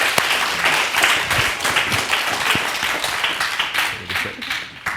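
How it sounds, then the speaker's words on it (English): Audience applause for a conference panel on building allyship, a broad wash of clapping that stays steady and fairly loud for the whole stretch, with faint voices mixed in underneath. "Give them a round of applause"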